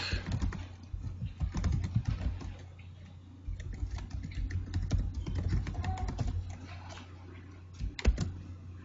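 A computer keyboard is typed on rapidly and continuously, with dense, close key clicks, a short pause, then more typing and a louder tap near the end.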